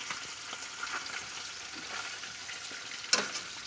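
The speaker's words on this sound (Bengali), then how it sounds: "এই দেখো উচ্ছে আর আলু ভাজা" Bitter gourd and potato strips fry in hot oil, a steady close sizzle with faint stirring scrapes and one sharp clatter near the end, no voices.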